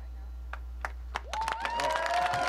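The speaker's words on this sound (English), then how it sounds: "I didn't mean to pause for applause." A few scattered claps from an audience during a speech on a nuclear energy bill, building into brief light applause as a voice begins speaking over it.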